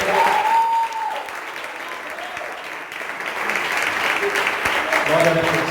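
Church congregation applauding, a sustained crowd clapping that runs throughout, with singing or a voice over it.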